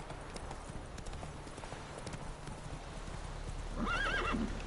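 Roach, a horse in the video game The Witcher 3, gallops with steady rapid hoof clip-clop under faint game ambience, then whinnies loudly near the end.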